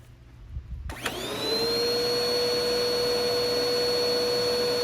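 A Bissell PowerForce Helix upright vacuum cleaner, run without its filter, switches on after a moment of quiet, spinning up to a steady, loud whine with a high-pitched tone and airy roar.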